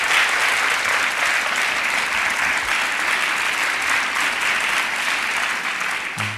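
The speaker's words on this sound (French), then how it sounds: "venez avec moi sous les applaudissements bien sûr du public" Steady, dense audience applause fills a TV game-show studio set at the Palais des Festivals in Gramado, loud and continuous throughout with no voices on top.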